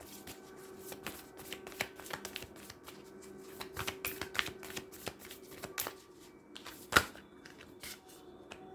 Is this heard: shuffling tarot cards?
yes